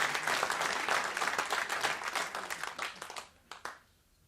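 An audience claps at a cultural evening, dense sustained applause that thins out and fades into a few last scattered claps.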